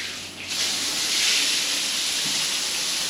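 Hotel shower head in a Pattaya bathroom switching on and spraying at decent pressure, a sudden burst into a steady, close hiss of water that holds evenly to the end.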